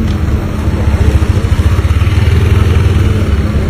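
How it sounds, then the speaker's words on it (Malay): A motorcycle engine rumbles loud and close, a steady throbbing drone with slight pulsing, heard alone without voices. "Tu naik motor."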